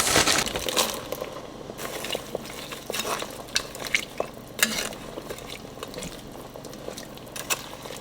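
Potatoes tumbling into a pot of green beans at a boil on medium heat, giving a close clatter of pieces with a few sharp knocks against the pot over steady bubbling and stirring.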